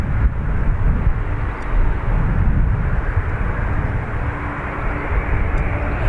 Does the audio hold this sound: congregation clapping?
no